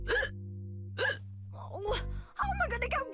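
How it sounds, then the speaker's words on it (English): A cartoon character hiccups repeatedly, each sharp vocal hic standing out over a low sustained hum, with a spaced and slightly irregular rhythm. "Oh, how am I going to get rid of these hiccups?"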